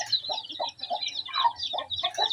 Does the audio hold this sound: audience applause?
no